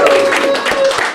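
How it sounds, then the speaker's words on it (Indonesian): Audience clapping on a studio talk show, a short, dense burst of applause, loud and close, with a faint steady tone underneath. "Tepuk tangan teman-teman."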